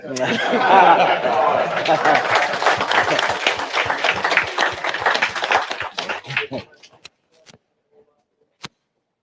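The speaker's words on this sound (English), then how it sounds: "So who we applauding, the barber or the man?" A community gathering in a barbershop breaks into clapping with laughter and chuckles mixed in, loud at first, then thinning over several seconds to a few scattered claps and near silence.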